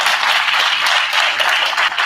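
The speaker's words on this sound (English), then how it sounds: "round of applause for all these great moderators" An audience at a 2019 Combined Arms convening applauds the moderators. The clapping is a steady, dense burst of many hands, loud and continuous throughout.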